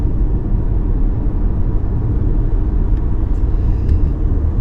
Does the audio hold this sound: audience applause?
no